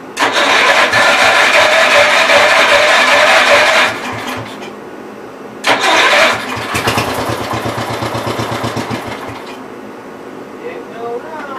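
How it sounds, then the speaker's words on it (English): A 1970 408 V8 engine, freshly rewired, cranks loudly with the starter, stumbles briefly, then catches and settles into a rough, pulsing idle close by, with a voice heard at times. "But if I hooked everything up right, I do believe it's going to run."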